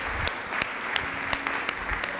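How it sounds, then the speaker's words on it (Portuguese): Church congregation applauding during a worship service, steady dense clapping from many hands with a few louder claps standing out, continuous for the whole stretch. "Nós aplaudimos o teu nome nesse momento, Jesus"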